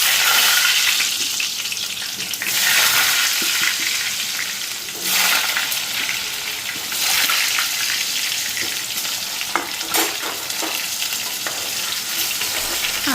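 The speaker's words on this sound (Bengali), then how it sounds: "তো আগে আলুটা ফ্রাই করে নিই" Potatoes frying in hot oil in a home kitchen, a continuous loud sizzle with occasional stirring scrapes and brief surges, no voices over it.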